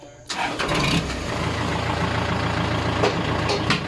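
An engine cranks and fires while the vehicle is left in gear, then settles into a steady, rough, loud idle up close, with no talk over it.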